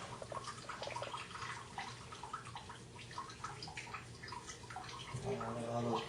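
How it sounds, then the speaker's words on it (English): Water draining out of a container holding a pepper egg, a continuous wet trickling and gurgle that swells louder near the end, close and steady with no talk. "I'm going to let it drain out."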